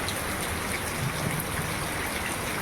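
Steady rain falls in a continuous, even hiss and patter, fairly close and unbroken, with no voices over it.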